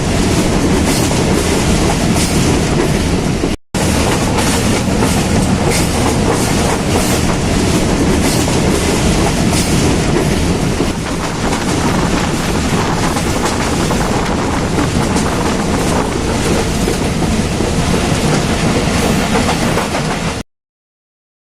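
Passenger train on the line from Rawalpindi to Gujranwala in Pakistan, heard up close as a loud, continuous roar with rhythmic clickety-clack and heavy wind buffeting, broken once by a brief cut, with no speech.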